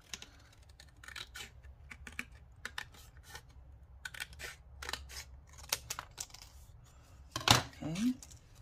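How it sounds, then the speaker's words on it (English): Scissors snip through Pro Nutra cereal board in a run of short, crisp cuts with small pauses between them, close up, ending in a louder crunch near the end. "I'm gonna cut the cereal board a bit"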